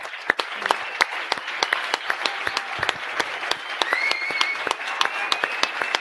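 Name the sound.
applause for the host Sarah Santaolalla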